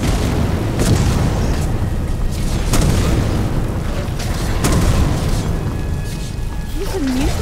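Booming fireball spell blasts in Skyrim Special Edition, several loud, close impacts rumbling out over a dense, noisy battle din.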